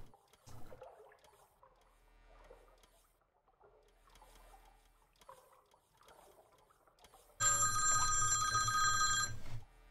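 A telephone bell rings loudly and steadily for about two seconds near the end, after a stretch of quiet, faint background sound.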